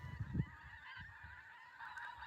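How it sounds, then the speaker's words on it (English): Faint, distant honking of geese on an autumn hillside walk in Scotland's Pentland Hills near a loch, a few soft calls rising over a low outdoor rumble and footstep-like thuds. "I can hear geese. Can you hear geese?"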